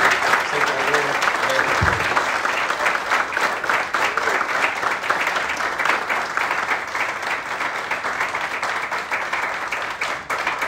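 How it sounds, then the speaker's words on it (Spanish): A Dominican awards ceremony audience bursts into loud, sustained applause in tribute, many hands clapping densely and close throughout. "le demos un fuerte aplauso"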